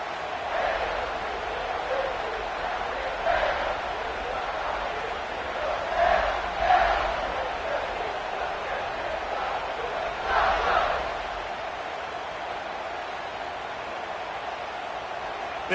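A football stadium crowd roars in a steady distant wash, swelling in a few waves before settling, with an announcer's voice over it.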